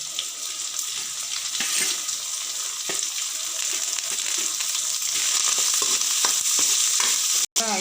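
Dried red chillies fry in hot oil with a steady crackling sizzle, occasional stirring clicks and scrapes, continuous and close throughout.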